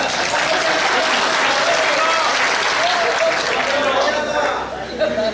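Loud, dense applause from the audience at a mushaira, an Urdu poetry gathering in Tilhar, with crowd chatter and voices mixed into the clapping until it thins near the end.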